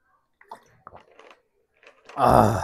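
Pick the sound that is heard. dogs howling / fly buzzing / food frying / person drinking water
person drinking water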